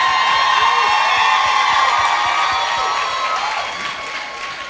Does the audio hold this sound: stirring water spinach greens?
no